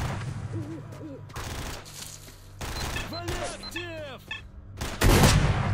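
Scattered gunshots in the STALKER shooter game, a few sharp bursts spread across the moment with the loudest near the end, mixed with other game sounds and ambient noise.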